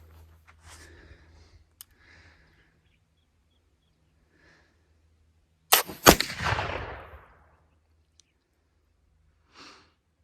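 A single gunshot from a firearm loaded with homemade sodium nitrate black powder, one loud sharp blast with a short decaying rumble, after a quiet stretch of faint background movement; a brief soft noise follows later.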